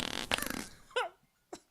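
Short fart noises, one longer sputtering burst followed by two brief pops, loud and close with no talking.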